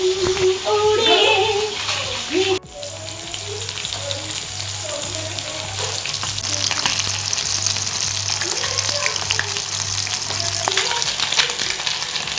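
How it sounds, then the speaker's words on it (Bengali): Fresh pond fish fry hard in hot oil in a wok, giving a steady, loud crackling sizzle with brief clattering stirs near the start before the frying settles into an even hiss. "একটু কড়া করেই মাছগুলো ভেজে নিয়েছি"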